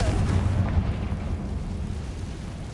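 A Confringo fire spell blast in the Hogwarts Legacy video game: a loud, rumbling explosive burst with a heavy low boom that fades into a sustained crackling roar.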